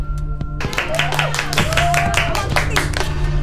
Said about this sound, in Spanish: La familia ahí aplaudiendo